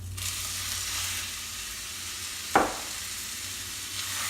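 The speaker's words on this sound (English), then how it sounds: "Now we're going to take about a pound of ground beef" About a pound of 85/15 ground beef sizzles steadily in a hot pan over medium-high heat, a close, continuous frying hiss broken by one sharp scrape or stir midway.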